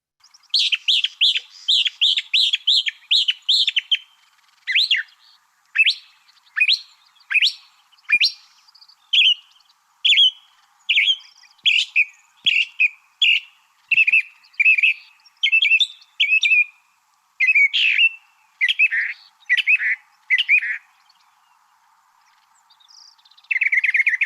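A mockingbird sings alone outdoors on a nature walk, delivering bursts of varied chirps and whistled phrases, some mimicking other birds, in clear repeated runs separated by brief pauses, close and prominent against a quiet background.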